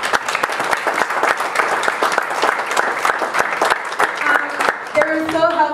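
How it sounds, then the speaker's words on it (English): An audience at a community gathering gives a warm round of applause, with many hands clapping in a busy, sustained patter; some voices and a brief tonal sound rise near the end. "So I want us to give him a round of applause."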